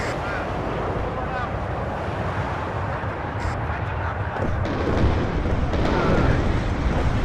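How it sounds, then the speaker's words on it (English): Bombs dropped by Buccaneer jets burst in the WARNO war game as a dense, continuous roar of explosions and rumble that swells louder toward the end, with no clear separate blasts. "Bombs away"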